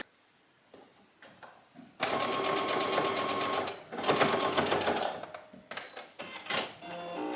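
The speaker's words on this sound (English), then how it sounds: "I'm just gonna sew around the whole thing" A sewing machine stitches around a dress neckline with the lining and bodice placed right sides together, running in close, loud bursts of rapid whirring broken by short pauses and handling sounds.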